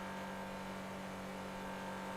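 A video game car engine hums steadily at a low idle-like pitch, quiet and continuous with no talking over it.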